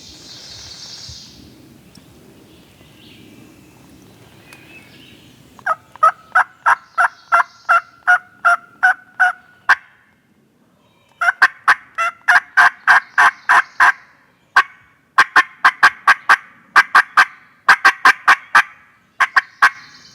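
Wild turkeys gobble in repeated rattling bursts outdoors during a hunt, several loud close calls in quick series with short pauses between, answering one another.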